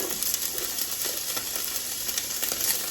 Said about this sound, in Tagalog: Let's saute first our sweet onion.